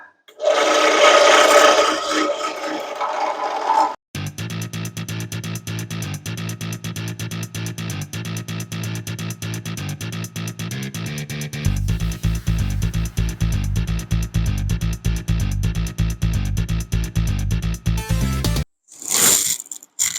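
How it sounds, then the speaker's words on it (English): A drill press motor whirs steadily while the bit grinds and rasps through wood, drilling peg holes in repeated bursts, loud and close, ending with a brief scrape. "I've got my marks all laid out, so we'll drill these out"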